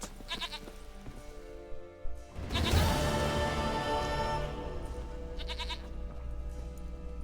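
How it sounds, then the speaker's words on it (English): A goat in The Witcher 3 game bleats in one long, wavering cry after some faint background clicks, followed by quieter ambient game sound. "Goat of mine, dearest, sweetest goat."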